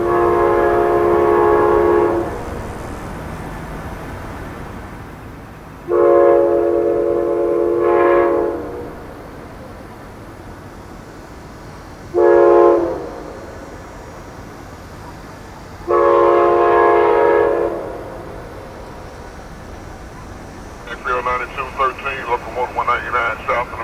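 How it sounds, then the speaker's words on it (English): A locomotive horn sounds at successive road crossings, four loud sustained chords with pauses between, the first and third long, the others shorter, followed by the rhythmic rattle of the passing train; a voice talks over the first part. "the horn getting louder with each crossing."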